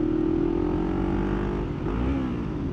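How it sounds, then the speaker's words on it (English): A Yamaha Vmax 1200 motorcycle roars at high revs on a winding mountain road, then the engine note dips and jumps as a gear shift is missed, loud and close with wind rush. "There it was. I finally missed a gear."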